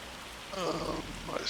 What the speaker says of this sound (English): it's raining and hailing and whatever else it's doing right now